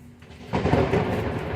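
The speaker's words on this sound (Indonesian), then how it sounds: "Wow, ada petir." Thunder breaks out as a sudden broadband rumble about half a second in and keeps rolling for the rest of the short clip, moderately loud, with no talking over it.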